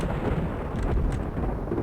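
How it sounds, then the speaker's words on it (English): Continuous low rumbling thunderstorm ambience from a Doom 64-style map played in Doom 2, a steady dense roar of rain and distant thunder filling the whole stretch without pause. "Oh boy, thunderstorm effects."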